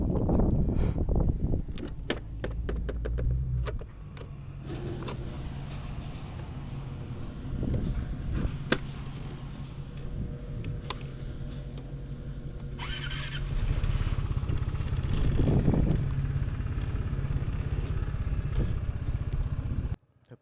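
Vespa GTS 300 Supersport scooter on a ride, a steady engine drone with wind rush and occasional clatter running throughout, rising briefly in loudness near the end.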